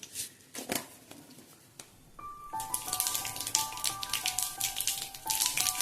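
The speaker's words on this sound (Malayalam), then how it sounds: "കടുക് പൊട്ടി വന്നിട്ടുണ്ട്" Mustard seeds crackle and pop in hot oil, a fast scatter of sharp, close ticks that thickens into a dense patter after the first couple of seconds, with a faint tonal hum beneath.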